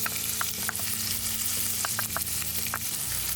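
Butter melting and sizzling in a hot pan with beef steak, a steady crackling fry with scattered spatula taps and scrapes, close and fairly loud, over a low hum, with no talking.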